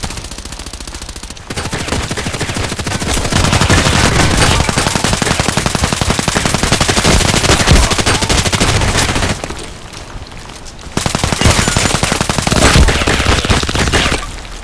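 KAC PDW rifle fire in the shooter game Contract Wars, long loud sustained automatic bursts nearly continuous, with a brief pause before firing resumes.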